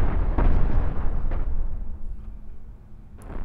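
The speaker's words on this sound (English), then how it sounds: "let's see how our cannons go at punching through here" Spaceship cannons fire in the Cosmoteer space ship-building strategy game, a dense run of loud, booming, overlapping blasts that thin out toward the end, with a sharp report near the finish.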